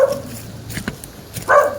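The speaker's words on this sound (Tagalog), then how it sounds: "Galit na galit yung aso sa atin mga idol." An angry dog barks in a few sharp bursts outdoors in General Lacar, Quezon, loud and nearby, with short gaps between the barks.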